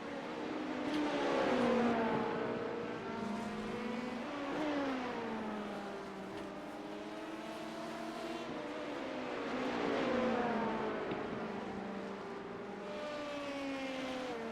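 Race cars, including a lone Porsche in a multi-class field, circle Watkins Glen in a sim racing league game, their high engine notes climbing and dropping through gear changes in repeating waves, mid-distance and fairly quiet.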